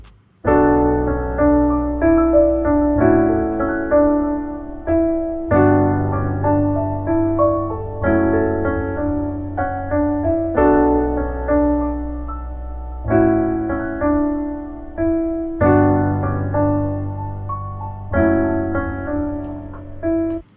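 A piano melody with a sparse top line, softened by reverb and delay, plays as a loud, repeating chordal pattern with sustained low notes and bright upper notes sprinkled above, running alone without any voice.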